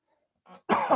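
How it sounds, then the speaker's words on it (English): A brief throat sound followed by a single sharp, close cough, alone in near silence. "apologize for the coughing"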